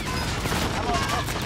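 Rapid bursts of gunfire from a shooter video game, a steady dense crackle filling the whole moment at moderate loudness, with a voice faintly present underneath.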